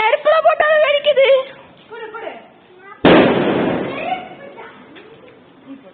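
A single sharp firecracker bang cuts in mid-clip during Diwali, set off in a fire, loud and close, with a crackling tail; talking and a higher voice come before and after.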